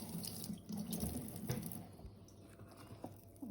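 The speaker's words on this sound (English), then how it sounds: "I'm going to get my hands a little bit wet, because it is sticky" Hands being wet under a running kitchen tap while making an all-purpose flour sourdough, a steady close stream of water splashing into the sink for a few seconds, with no voices.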